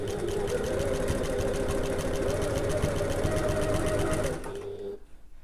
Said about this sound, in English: There we go, and then carry on sewing.